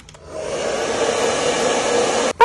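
A hair dryer blows on freshly stencilled paint, switching on with a rising whir and then holding a steady, close hum for about two seconds before cutting off with a brief click.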